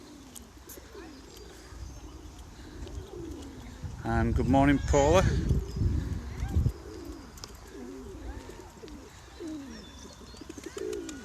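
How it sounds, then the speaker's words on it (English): Pigeons, hundreds of them, coo and call steadily in the open air at a war memorial on a VE Day morning, a soft continuous background with a person talking briefly over it partway through. "Got a lot of birds this morning. Pigeons, hundreds of them."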